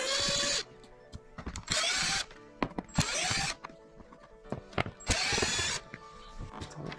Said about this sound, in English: so we're gonna remove those